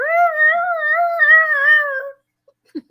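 A dog gives one long, wavering howl lasting about two seconds, loud and close, followed by near silence and a faint short sound at the end.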